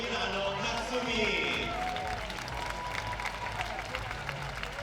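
A crowd at a youth world championship lead climbing competition in Arco claps for climber Natsumi, a diffuse spread of applause under a commentator's voice, fairly distant and steady.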